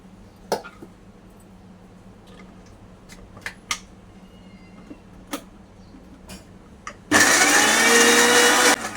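A mixer grinder churns taro (kochu) paste in a loud, steady whir that starts abruptly near the end, after quiet kitchen taps and small knocks.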